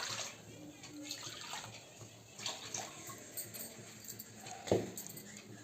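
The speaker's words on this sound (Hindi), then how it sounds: "सबसे पहले इसमें पानी डालना है।" Water is poured from a bowl into a pot while making pitha, giving a faint, uneven splashing and trickling at close range in a quiet kitchen, with a brief clink near the end.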